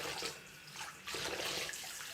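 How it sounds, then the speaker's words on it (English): Hot water runs steadily from a tap into a sink, a continuous broadband splashing hiss with slight surges, close and fairly loud, with no talk over it. "I run the hot water for quite a while"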